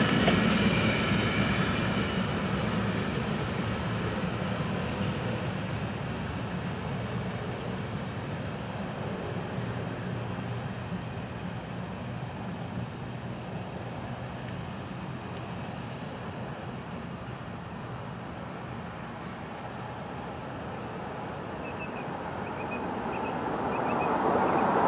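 A Florida East Coast freight train, FEC103, rolls past on its way into Fort Pierce Yard with a continuous rumble of railcars and wheels on track, fairly steady and moderately close throughout.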